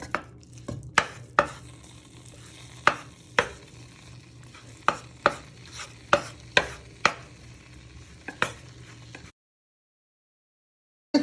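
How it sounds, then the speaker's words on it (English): Meat for a steak and ale pie browns in a pan under a low, steady sizzle, punctuated by a dozen or so sharp, irregular clacks of a wooden spoon knocking against the pan as it is stirred. "So you're just browning the meat."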